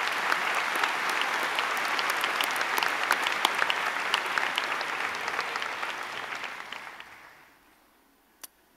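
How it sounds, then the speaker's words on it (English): Audience applause at a closing ceremony, a sustained round of many hands clapping with scattered sharp claps, fading out near the end to quiet and a single sharp click. "Please give them a round of applause."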